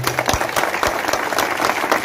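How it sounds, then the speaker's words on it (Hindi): At a police civic action programme under Meri Mati Mera Desh, a crowd gives loud, close applause for performing children: a brisk, continuous burst of many hands clapping. "बहुत बड़ी बड़ी तालियां इन छोटे छोटे बच्चों के लिए"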